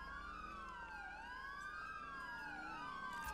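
Emergency vehicle sirens in the game GTA 5 wail continuously, several overlapping rising and falling tones, loud and close, with a vehicle rumble underneath and no talking.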